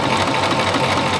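A sewing machine top-stitches a fabric cuff for a vintage Barbie doll dress, its rapid mechanical whir running steady and close for about a second before stopping.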